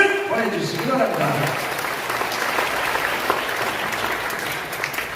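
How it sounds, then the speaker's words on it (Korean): Audience at a national ROTC and free-village rally in a hotel ballroom breaks into sustained, dense applause that holds steady and loud after a brief moment of talk at the start. "정말 열심히 장경동 목사님께도 감사의 박수를 보내주시기 바랍니다"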